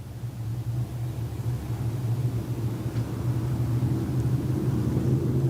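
Stock cars thunder around a dirt oval at Off Road Speedway in a Stock Car and Sportmod race, a steady deep engine roar heard from a distance that swells slightly as the field comes through a turn.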